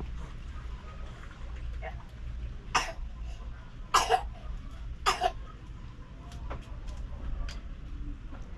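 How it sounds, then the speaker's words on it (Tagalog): A sick baby in hospital gives a few soft, loose coughs, spaced apart and close by, over a low steady background hum. "malambot na yung ubo"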